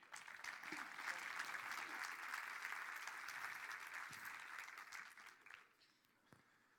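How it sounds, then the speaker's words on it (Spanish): Steady applause from a conference audience greeting a speaker, a dense wash of clapping that holds for several seconds and then fades away toward the end. "Un aplauso, por favor."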